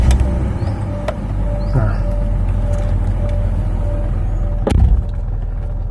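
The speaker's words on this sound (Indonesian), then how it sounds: "Setelah itu kalian starter mobilnya." A BMW E39 sedan idles with a low, steady engine rumble after starting, accompanied by a few sharp clicks and clunks and a brief rising whine, while someone talks over it nearby.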